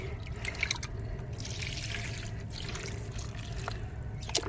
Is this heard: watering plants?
yes